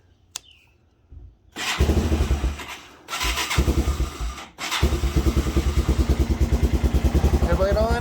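A Yamaha 225DR motorcycle engine starts after a faint click, catching in stuttering bursts and then settling into a loud, close, rhythmic thumping idle with a few blips of throttle.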